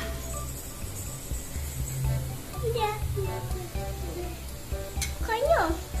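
Ghee sizzles and fries steadily in a pan while the sweet jackfruit filling for kumbilappam cooks, with clattering stirring and light voices in the background throughout.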